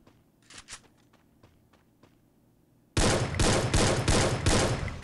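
Rapid automatic gunfire in the Free Fire mobile game, played on an iPad: a few soft footstep-like taps, then a loud close burst of five or six shots in quick succession.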